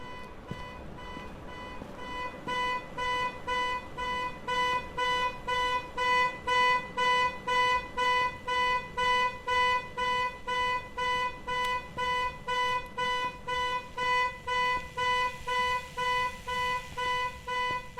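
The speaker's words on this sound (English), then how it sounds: "The car alarm is going off." A car alarm blares inside the ghost-hunting game Phasmophobia, a steady run of loud, evenly spaced electronic beeps that repeats for the whole stretch after a short quieter lead-in, with no talk over it.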